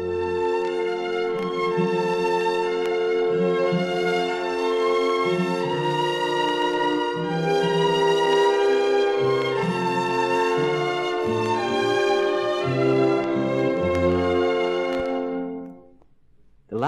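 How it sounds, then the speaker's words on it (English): Orchestral passage from Beethoven's Pastoral Symphony in a 1956 recording, with high violins singing over sustained wind chords and plucked strings, steady and full for about fifteen seconds before fading out. "Listen for the high, pure sound of the violins over the other instruments."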